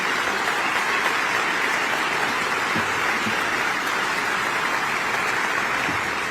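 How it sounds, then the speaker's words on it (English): A large political crowd at an Illinois Democratic event honoring Senator Dick Durbin applauds steadily, a sustained wash of clapping with no breaks. "Let's have a loud round of applause for Senator Dick Durbin."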